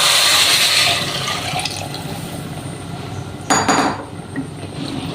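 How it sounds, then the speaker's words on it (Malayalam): Water poured from a cup into a large bowl of ration rice, a loud continuous splashing rush that settles briefly, with a sharp clatter of the bowl near the end. "ഇനി ഇതിലേക്ക് നമുക്ക് ആവശ്യത്തിനുള്ള വെള്ളം ചേർത്ത് കൊടുക്കാം."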